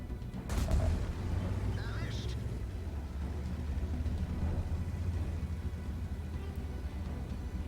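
Artillery fire in World of Tanks, heard as a sharp distant blast near the start followed by a low rumbling tail, with engine drone and game noise continuing underneath.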